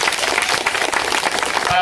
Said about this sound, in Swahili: Makofi kwa Mheshimiwa Rais.